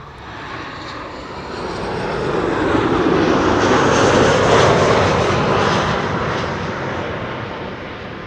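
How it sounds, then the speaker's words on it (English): A Boeing 737-900, LL flight 337 from Tel Aviv, arriving at Amsterdam Schiphol on a sunny day; its loud jet roar swells as it passes overhead and then slowly recedes. "this is LL flight 337, a 737-900 arriving from Tel Aviv"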